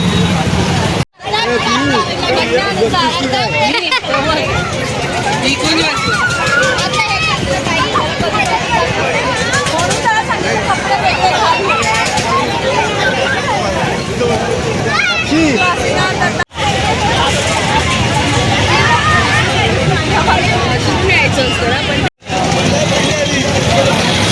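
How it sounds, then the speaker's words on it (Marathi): Dense crowd at a village fair (jatra) in Khadpoli, Chiplun, with a steady loud babble of many voices and some traffic noise throughout, broken by a few brief cuts. "भरपूर गर्दी आहे, भरपूर लोक येतात जत्रेला"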